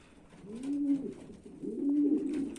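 Two soft, low cooing calls from a pigeon, close by, each a throaty rolling coo with a brief pause between.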